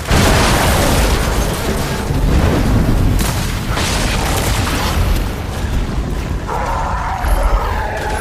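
Loud, continuous gunfire and explosions from an Xbox Series X video game, a dense barrage of booms and bursts sustained throughout with no pauses.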